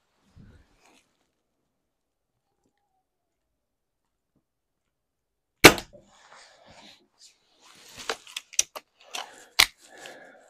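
An air gun firing pellets at a target, one sharp loud shot followed by a run of smaller clicks and ticks from the rifle being handled and reloaded, close by with no talk.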